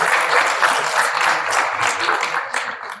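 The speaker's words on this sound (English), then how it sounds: "Let's give him a round of applause" Audience at a public speaking championship breaks into sustained applause, dense and fairly loud with scattered sharper claps and a faint cheer, easing off toward the end.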